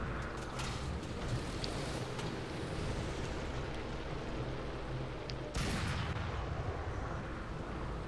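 Heavy rumbling battle noise from the War Thunder tank game, with distant gunfire and artillery-like thuds and a sudden bomb blast partway through that brightens the sound.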